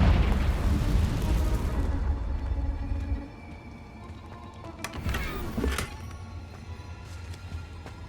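Spell blast from the Confringo curse in Hogwarts Legacy: a loud, sustained rumbling burst for about three seconds, then a quieter crackling tail with a couple of sharp pops near the end.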